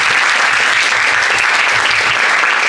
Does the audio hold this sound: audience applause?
yes